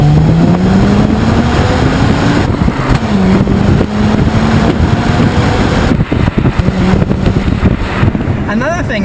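A 2004 Mazda RX-8's engine drones steadily while driving, its pitch rising and falling with the revs under loud wind and road noise, with a person talking over it throughout.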